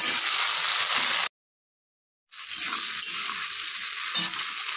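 Green chilies and eggplant fry in hot oil with black cumin, giving a loud, steady close-up sizzle that cuts to a second of silence before the crackling hiss resumes.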